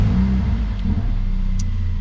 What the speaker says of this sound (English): Car bursts into life. Got a nice wee pop off the exhaust there just as it starts.